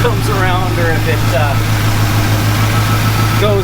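A Chevy Squarebody truck engine idles roughly, a loud steady rumble with uneven pulsing that runs the whole time while someone talks over it.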